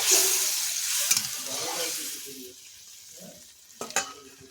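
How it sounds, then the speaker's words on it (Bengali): Water poured into a hot pan of snail curry, starting as a loud hissing sizzle that fades as the liquid settles, with a few sharp clinks of a utensil near the end. "এবার এখানে দিয়ে দিচ্ছি পরিমাণ মতন জল"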